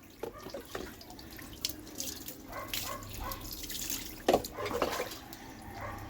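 Running water splashes over a dog during a bath, a continuous close trickle and patter with irregular splashes and a brief louder gush near the end, no talking heard.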